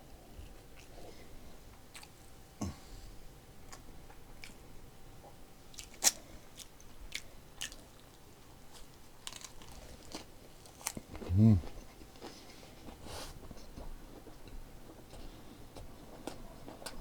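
Chewing boiled bossam pork full of crunchy cartilage, served with kimchi and chili, quiet close-up mastication with scattered small crunches and one louder crackling bite partway through.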